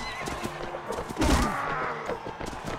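A horse gives a single loud, shaky whinny in Mount and Blade: Warband, amid background clatter and rumble.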